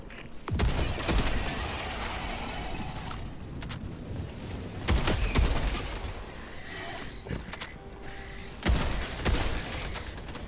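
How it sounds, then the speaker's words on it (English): A sentry machine gun in Helldivers 2 fires in scattered sharp bursts, a few loud volleys spaced several seconds apart over a busy battle background with no talk. "Now, a little machine gun can protect us while we..."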